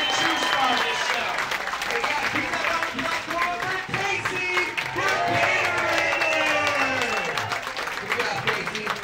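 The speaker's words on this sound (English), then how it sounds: "Everyone give Tabasco a great big round of applause." Audience applause for Tabasco the alligator at Gatorland in Florida: a dense, steady wash of clapping and some cheering from a crowd, loud and sustained for about nine seconds with no clear break.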